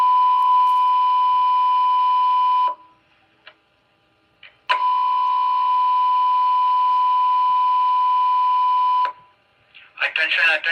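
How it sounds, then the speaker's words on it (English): A building fire alarm trouble signal sounds as two long, loud, steady electronic tones separated by a short gap, with a brief burst of other sound at the end. "We have a trouble alarm condition in the building."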